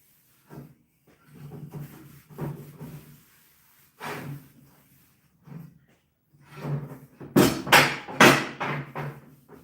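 Rags wipe over metal on a welding cart build in a series of soft rubbing strokes that grow faster and louder toward the end, with no talking.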